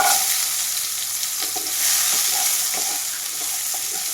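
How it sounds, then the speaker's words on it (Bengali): Cut pumpkin pieces frying in hot mustard oil, a continuous loud sizzle with light crackling and a few soft stirring taps, no talking. "তেল খুব ভালোভাবে গরম করে নিয়েছি। দিয়ে দেবো কেটে রাখা কুমড়ো।"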